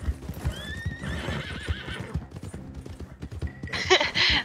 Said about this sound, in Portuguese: Meu cavalo é na direção errada